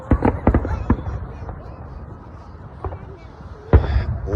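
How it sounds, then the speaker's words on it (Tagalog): Canada Day fireworks bursting outdoors, with several sharp booms early on, a quieter stretch with a faint pop, then another loud blast near the end over a low crowd murmur. "It seems like there's another fireworks too."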